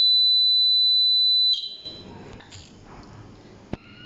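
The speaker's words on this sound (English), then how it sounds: "As you can see, the buzzer is ringing and LED is glowing." Buzzer on a laser security alarm circuit sounds a steady, loud continuous high tone for about a second and a half, then cuts off, leaving low background noise and a faint click.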